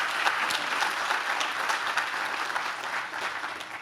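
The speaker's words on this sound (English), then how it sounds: "I ask that everyone give him a round of applause once again" Steady applause from an audience at an outdoor plaza dedication ceremony, even and moderately distant, sustained through the whole moment without speech over it.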